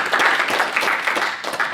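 An audience at a clinical hypnosis lecture gives a round of applause, a steady, full wash of many hands clapping throughout.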